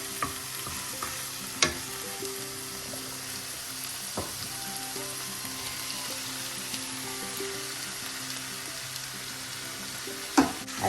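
Green beans stir-fried with ground coconut paste for a Kerala-style thoran, a soft steady sizzle with occasional sharp clicks of a spoon against the pan, quiet and with no talking.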